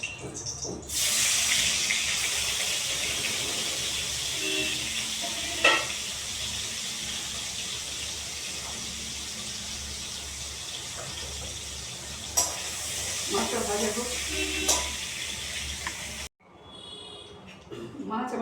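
Shrimp frying in a pan makes a loud, continuous hiss that starts abruptly and holds steady, broken by a few stirring knocks, then cuts off near the end. A voice speaks briefly over it.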